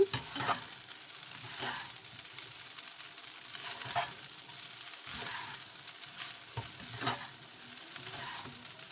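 A spatula stirs fried rice with peas, eggs and ham in a pan, giving rhythmic scraping strokes about every second over a soft continuous sizzle, with no talking.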